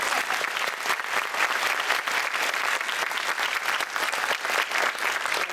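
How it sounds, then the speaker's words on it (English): An audience at a startup demo day bursts into steady, lively applause, close and full, with dense overlapping claps continuing evenly throughout. "A round of applause for Elizabeth."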